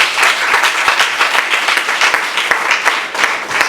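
A church congregation at a preaching service applauds to acclaim Jesus, loud, fast and continuous clapping from many hands close by.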